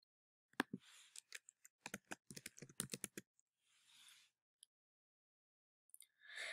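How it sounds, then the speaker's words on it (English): Close, crisp keystrokes on a computer keyboard as a search term is typed, in a quick irregular burst of clicks, then a few isolated taps and soft rustles in an otherwise quiet room. "I'll type Africa into the All These Words box"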